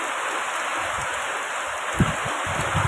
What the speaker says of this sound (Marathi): पावसाचा जोर भरपूर आहे